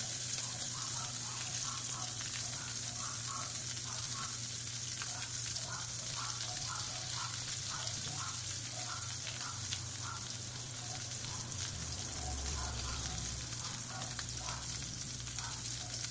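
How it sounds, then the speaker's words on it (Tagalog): Butter melting in a pan gives a steady, faint sizzle with soft crackles throughout, a low hum underneath. "I-melt natin yung butter."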